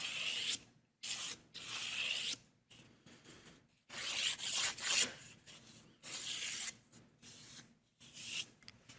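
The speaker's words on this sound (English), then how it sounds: "Little ASMR, sanding ASMR there." Sandpaper is rubbed on a wooden door template in rapid back-and-forth strokes, a close, dry scratching in bursts with brief pauses between them and no talking.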